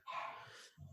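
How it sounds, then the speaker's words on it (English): Dogs bark and whine in the background of a room, one loud sustained yelp or howl followed by lower, rougher barking, fairly close and with no talk over it. "Sorry about my dogs in the background"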